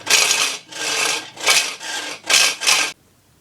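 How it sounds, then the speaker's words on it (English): A hand file rasping across the cut metal edges of a saucepan, five or six loud, even back-and-forth strokes, then it stops. "just get your file and file the edges down so it's nice and smooth"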